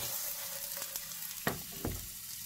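Sweet potatoes sizzle and fry in a hot pan for a burger recipe, a steady crackling hiss with two louder bursts of spatter partway through, close and alone with no talking.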